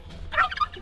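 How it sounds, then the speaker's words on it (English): A black chicken gives a short, close burst of clucking calls, loud against a quiet outdoor background, with no voices. "So this is my black chicken."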